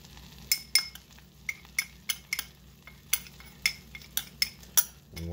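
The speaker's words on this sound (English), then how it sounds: "We want to whisk constantly until it mixes together and we're left with no lumps" A whisk scrapes and clinks against a metal pan as flour is worked into bubbling butter for a cheese sauce, giving a quick irregular run of sharp metallic taps over a low background hum, close and clear; no talk.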